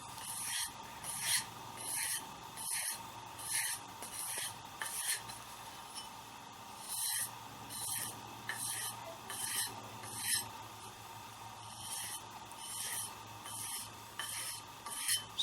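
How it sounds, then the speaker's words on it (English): Sandpaper rasps along the edge of a Viking tomahawk axe being sharpened, with repeated rhythmic strokes roughly every second, close and fairly loud, and no voice over it. "Basically, I'm just trying to work the edge to sharpen the edge up a little more."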